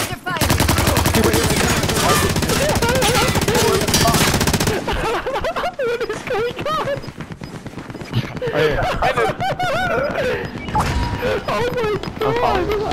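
Heavy gunfire in Call of Duty: Modern Warfare, a loud dense burst of rapid shots for the first few seconds, then scattered shots and impacts under excited voices talking over the match.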